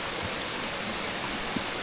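Small waterfall outdoors beside a stream, a steady broadband rush of falling water that stays even and fairly faint throughout, with no voices.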